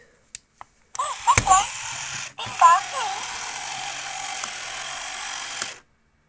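A Furby toy's motor and gears whir and click in a mechanical buzz lasting several seconds. The toy's own chirpy electronic voice sounds over it, with brief clicks before and after.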